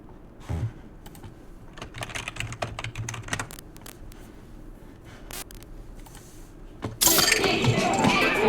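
A computer keyboard is typed in bursts of quick clicks, close by. Some pauses break the typing, and a loud broadband rush swells near the end.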